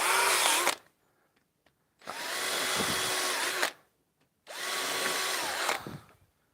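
A power drill drives screws into a wooden shave horse in three sustained whirring bursts, each close and loud with the motor pitch dipping under load, separated by short quiet gaps.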